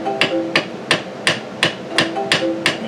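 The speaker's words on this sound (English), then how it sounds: "ball peen hammer" A ball peen hammer knocking out a gasket for a Maytag Model M washer, striking in a steady rhythm of about eight sharp, close metallic blows with brief ringing between them, no talk.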